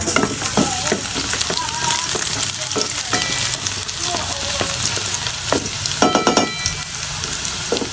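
Garlic sautés in a hot pan while being stirred, with a continuous loud sizzle broken by scattered utensil scrapes and clicks, and no talking.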